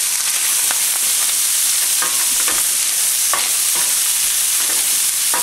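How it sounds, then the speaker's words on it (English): Chopped onions and finely minced garlic sizzle loudly in a pan over medium heat, a steady bright frying hiss broken by occasional scrapes and clicks of stirring. "Now turn your heat down to about medium and add your onions and your garlic. Get the onions in there."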